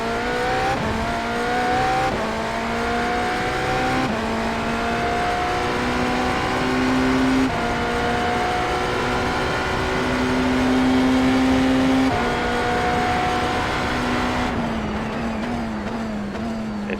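A race car engine roars continuously in a racing video game during an IMSA endurance session at Montreal, with a steady loud drone whose pitch climbs and drops repeatedly through gear changes, close and unbroken for the whole stretch.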